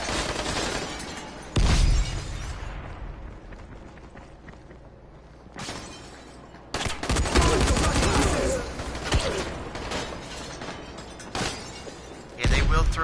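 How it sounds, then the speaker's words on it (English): Grenade explosions and gunfire in the game Dying Light, with loud sharp blasts bursting in at intervals over a rumbling, crackling fight and quieter stretches between them. "Yeah, they will throw grenades"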